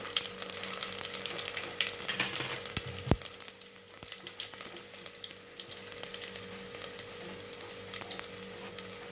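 Mustard seeds, cumin and garlic fry in hot oil for a child's healthy home-cooked meal, making a constant hissing sizzle with a few sharp knocks early on and a faint hum beneath, with no voices.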